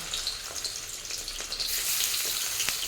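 Pieces of katla fish frying in hot mustard oil in a pan give a steady bright sizzle that grows louder and fuller partway through, with faint crackles and no talking.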